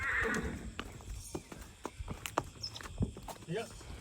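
A mare snorts and whinnies close by while her hooves clop and thud in an uneven rhythm, with people talking over the animal sounds.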